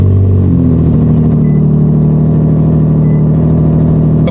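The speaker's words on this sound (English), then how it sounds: "Wait for it, cold start." A 2023 Nissan Z NISMO engine at cold start, a loud steady mid-low drone that settles after a brief higher flare at the start, with a sharp cutoff at the end.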